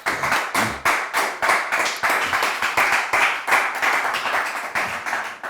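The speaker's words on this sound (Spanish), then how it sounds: "¿Puede darle un aplauso al Señor?" A church congregation claps together for the Lord during a Spanish-language sermon, steady rhythmic handclaps repeating for several seconds at close range with no talk over them.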